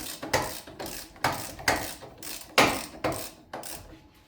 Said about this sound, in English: I already got my wrench on it. Start taking them out.